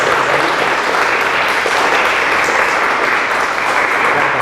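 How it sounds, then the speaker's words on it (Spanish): An audience applauds at the close of an academic lecture on ethnozoology and insects in the Maya area; loud, sustained clapping from a roomful of people, steady and unbroken from start to finish. "pues les damos un poco de aplauso."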